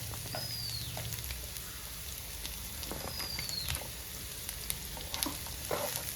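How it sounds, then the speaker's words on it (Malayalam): Chopped shallots frying in a pan with a steady soft sizzle, occasional stirring scrapes and clinks of a spoon, fairly quiet and close, no talking. "ചുവന്നുള്ളി നന്നായിട്ട് വഴണ്ട് വരണം അതുവരെ നമുക്കൊന്ന് ഇളക്കി കൊടുക്കാം"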